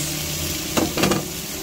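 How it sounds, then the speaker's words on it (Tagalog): Chopped tomatoes sautéing in a pan for ginisang ampalaya, a steady close sizzle with a couple of brief stirring scrapes partway through. "Gisa-gisa. Lutuin maigi ang kamatis."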